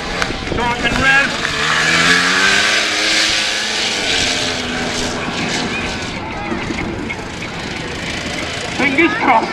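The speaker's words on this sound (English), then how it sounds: "So I can rev." Car engine revving loudly at an outdoor agricultural show, a rough roaring drone rising and falling up close, with crowd noise and voices mixed underneath.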